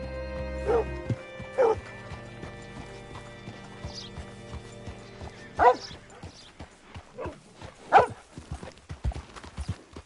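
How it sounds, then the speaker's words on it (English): Horse hooves clip-clopping at a slow walk in a PS4 video game, with a few louder individual hoof steps over steady ambient game music and background sound; a horse whinny and dog barks are faintly mixed in. "Hitch your horse up here."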